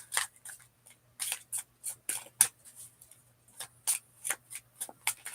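A deck of playing cards is shuffled by hand in repeated quick riffles and snaps, crisp bursts spaced irregularly across a quiet background.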